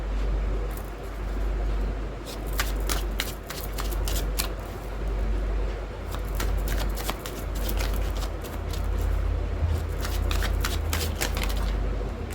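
Tarot cards are shuffled in several repeated bursts of crisp riffling flutter, close and fairly soft, over a steady low hum.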